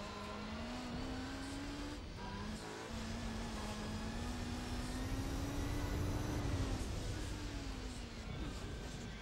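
Car engine in Gran Turismo 4 on a wet Tsukuba circuit, droning and revving steadily with slow pitch rises and falls and a brief cut near the start, while someone talks over it.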